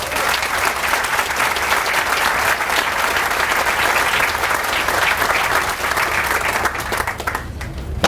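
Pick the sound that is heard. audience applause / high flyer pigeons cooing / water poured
audience applause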